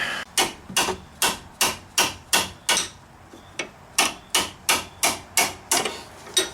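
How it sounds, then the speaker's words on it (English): A hammer strikes a steering knuckle on a 2002 Mitsubishi Lancer in a steady rhythm, about fifteen sharp, loud metal blows with a short pause midway, close and without talk. "Now we're going to smack the knuckle with the hammer."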